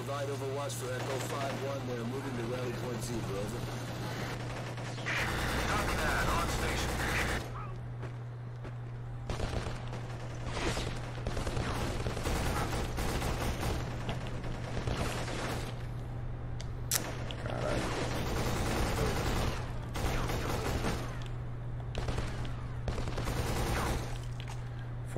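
Continuous fire from a 60-round AK assault rifle in a shooter video game on hard difficulty crackles in rapid bursts over a steady low hum, with a voice talking over the gameplay.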